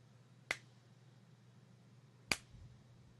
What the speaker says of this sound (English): I'm just going to do a clap